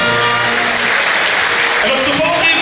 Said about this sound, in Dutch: Geef ze een geweldig applaus